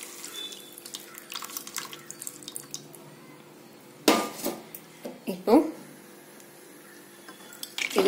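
Tamarind water poured into a cooking pot for puli sadam, with metallic clinks of pot and utensils, a few splashy pours and drips building toward the middle and end, and a brief spoken word at the start.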